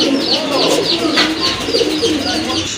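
Low, soft coos from a pair of khaki pigeons rolling in a steady series, with faint higher chirps and some background noise throughout.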